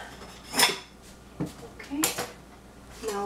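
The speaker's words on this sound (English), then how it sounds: "Now we cut the egg." A knife cuts a boiled egg for a salad, producing a few sharp clinks and scrapes against a plate or board, spaced irregularly over a quiet background with faint room noise.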